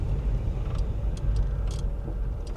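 A VW Eurovan VR6 van driving along, its steady engine drone and low road rumble continuous and close, with faint clicks from the cabin and no talking.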